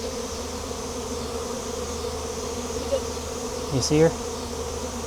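A massive wild bee swarm settling into a barn around a virgin queen fills the air with a steady, close buzzing that swells briefly near the end, with a short spoken question over it.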